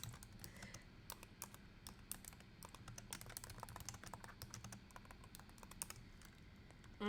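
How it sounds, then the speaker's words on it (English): Someone types an address on a computer keyboard, a steady run of quick, close key clicks with brief pauses, quiet and with no talking over it. "I'm going to type it in the address for you guys."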